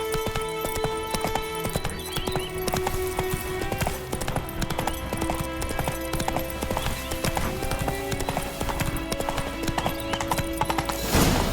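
Roach, a horse in The Witcher 3, gallops with steady, rapid clip-clopping hooves throughout, set against a dense game soundscape and music, with a brief whinny-like call and a louder burst at the very end.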